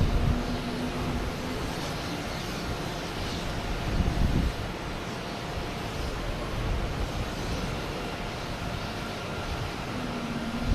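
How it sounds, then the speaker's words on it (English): A JetBlue airliner arriving from San Juan at Boston Logan gives a continuous mid-distance roar with wind-like rush, a brief low thump near the middle, and a faint tonal hum recurring at the start and end. "Is that JetBlue? Coming in from San Juan."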